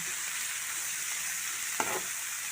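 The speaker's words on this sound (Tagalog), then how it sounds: "Haluin lang po natin siya mabuti. Hanggang sa maluto siya ng ganyan." Bitter gourd stir-fried with scrambled eggs in a pan, an even hiss of sizzling oil throughout with one brief scrape of stirring near the end, no talking.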